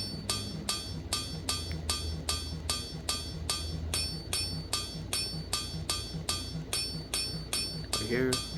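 A hammer strikes tin on an anvil in a blacksmithing session, a long run of bright, ringing metallic blows at a quick, even pace, close and loud, with a voice briefly at the end.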